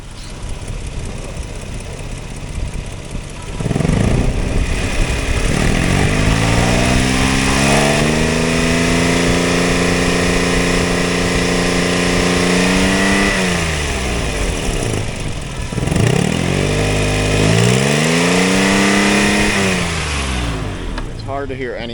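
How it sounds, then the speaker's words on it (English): A 4.0L 1GR-FE V6 in a 2007 Toyota FJ Cruiser idles up close with an exhaust leak, loud and rough with a steady chuffing rumble, occasionally revving up and settling back down; a voice talks over it. "Hard to hear anything over the exhaust leak"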